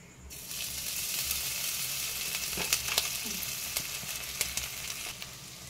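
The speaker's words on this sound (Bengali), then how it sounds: "এরপর আমি আদাটাকে দিয়ে দিয়েছি, ভালো করে নাড়াচাড়া করে নিয়েছি" Grated ginger sizzling in a hot tempering of spices and oil while being stirred, a continuous close crackle with a few utensil clinks and scrapes against the pan.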